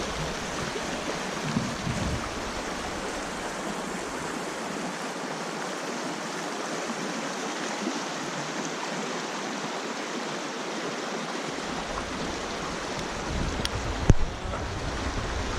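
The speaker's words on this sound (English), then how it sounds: "Oh yes, that's a river" A river in the Gila Wilderness rushes close by, a broad, loud, continuous wash of flowing water that stays steady throughout, with a short clatter near the end and no talking.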